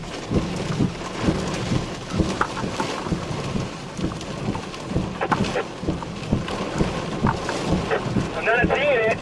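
Heavy rain pours during a thunderstorm near Merlin, Ontario, beneath a possible rain-wrapped wall cloud, a dense steady roar of drops with low rumbling swells and occasional faint background voices.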